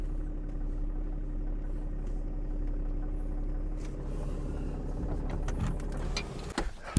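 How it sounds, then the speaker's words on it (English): A truck reverses slowly at a farm loading spot, its engine idling low and steady under faint background noise, with a few clunks and knocks near the end. "So I'm backing the truck up to the location to where I'm gonna be loading at."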